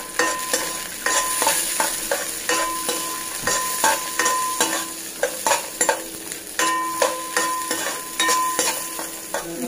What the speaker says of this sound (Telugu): గార్నిషింగ్ జీడిపప్పు వేయించి తీసి మళ్ళీ బౌల్లో పెట్టుకుందాం।